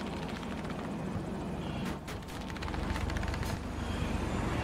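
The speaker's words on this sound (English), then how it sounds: "Okay, so now it's just us and that chopper." Helicopter flying in Battlefield 2042, a continuous low rotor and engine drone with a few sharp bursts midway, moderately loud and steady with no talk.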